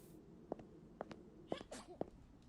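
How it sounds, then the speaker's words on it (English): A person sneezes in a quick run of four sharp, separate bursts spaced about half a second apart, each short and fairly close, with a faint breathy noise between them. "Who the hell sneezed?"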